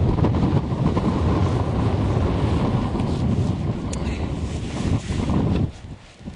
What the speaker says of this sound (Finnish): sehän on jo niin kova toi tuuli välillä